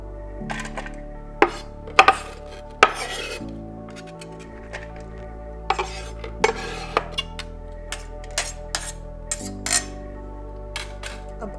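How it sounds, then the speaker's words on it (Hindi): Potatoes cut finely with a knife for vegetable pakoras, heard as a string of sharp, irregular knife taps and scrapes on a board, close up and fairly loud, with no talking. "अब आलू को काट लूंगी मैं"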